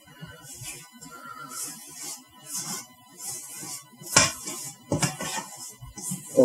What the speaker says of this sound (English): And now we'll give it another scrapey scrape.